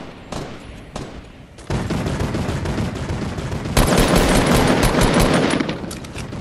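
Mounted turret machine gun fire in a video game, a couple of isolated shots followed by long, loud sustained automatic bursts that grow heavier toward the end, with no talk over them.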